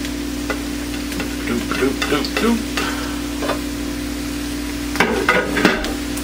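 Garlic sizzles in a pan with bacon and onions, a constant low fry under a hum, broken by two bursts of stirring scrapes, one early and one near the end.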